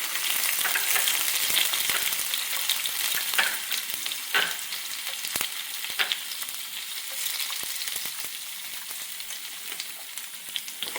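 Washed urad dal frying in hot oil with mustard seeds, a continuous bright sizzle with occasional pops and the scrape of stirring, close and alone without voices.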